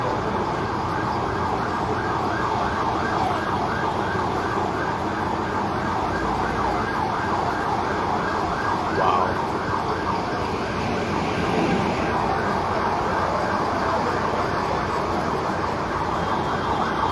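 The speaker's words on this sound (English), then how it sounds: "Now they hear sirens." Wailing fire truck sirens rise and fall continuously amid dense traffic and street noise at a factory fire in Lagos, loud and close, with no voices.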